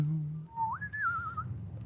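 A person whistles a short tune during a live podcast recording, a single close melodic line that rises, holds and then dips, heard alone over a low steady room hum.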